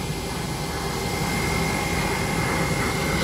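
Engines of a Scoot Tiger Air jet airliner idle on the apron after pushback, ahead of takeoff. The roar is loud and steady, with a broad whine that holds unchanged throughout and no voices.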